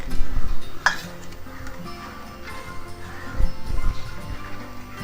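Rice pudding with sugar is stirred in a pot, a soft, steady scraping and swishing at close range with occasional light clinks and low background hum.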